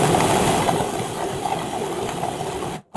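A food processor blends toasted coconut with dates in a loud, steady whirring run that cuts off abruptly just before the end.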